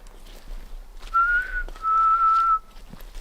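A clear, tonal whistle from an unknown creature back in the woods near a camping spot, in two sustained notes with a short break between them, fairly distinct over quiet night background.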